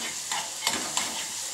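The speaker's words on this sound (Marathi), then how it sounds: "कांदा चांगला भाजून घ्यायचा" Onion sizzles steadily in a hot pan, a close, even frying hiss with a few light scrapes of stirring and no voices.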